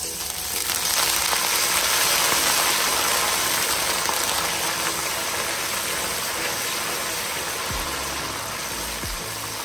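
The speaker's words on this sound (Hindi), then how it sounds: "तो अब मैं इसके अंदर डाल देंगे थोड़ा सा बिल्कुल पानी, ताकि प्याज जले ना।" Water poured into browned onions in a hot pan for Pakistani chicken salan sets off a loud, steady hiss and sizzle that fills the whole stretch without pause.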